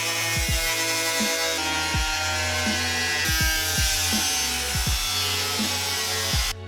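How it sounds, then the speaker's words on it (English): An angle grinder cuts intercooler piping for a 2JZ-swapped Datsun, a loud continuous whine with a steady low motor hum, repeated rhythmic dips in pitch as the disc bites into the metal. "I'm just gonna fit an angle grinder in here, take a little bit out."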